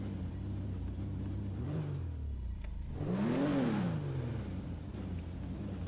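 A Nissan Nismo car engine in FiveM revs up and down, a mid-pitched rumble that rises, falls, then climbs in a second stronger rev before settling to idle, heard alone with no talk.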